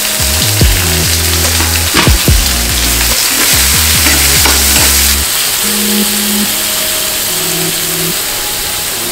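Chopped onions frying loudly in a pan for Bengali ghughni, a dense steady sizzle with repeated scraping and stirring clatter, the crackle easing slightly toward the end.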